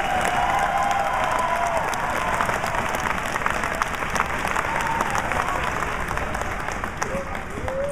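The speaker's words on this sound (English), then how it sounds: "please give them a round of applause" Dense, sustained applause and some cheering from an audience welcoming a chamber choir of kids at a patriotic concert, loud and continuous throughout with a crowd murmur underneath.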